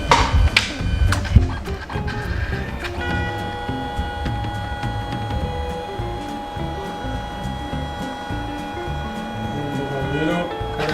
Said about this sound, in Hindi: हमने कंप्यूटर से इसमें प्रिंट भेज दिया।